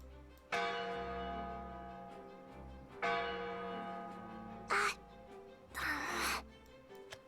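Bell rings in an animated Shadowverse episode: two resonant, lingering bell strikes a few seconds apart, followed by brief bursts of brighter noise, heard alone without speech.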